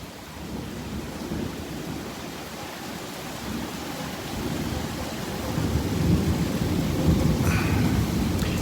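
A Houston thunderstorm rumbles as low thunder swells under constant heavy rain, the roar growing louder and denser toward the end with no voices.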